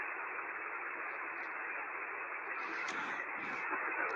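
Shortwave radio static from a Kiwi SDR receiver: a steady, dense hiss that holds at the same level throughout, with a few faint higher chirps and flutters drifting in near the end.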